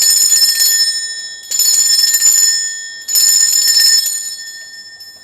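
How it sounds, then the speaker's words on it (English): A loud metal bell is struck three times to cleanse the space, each ring bright and sustained, then slowly decaying before the next strike. "I am about to ring a bell. This is to cleanse the space around us, but it can get loud."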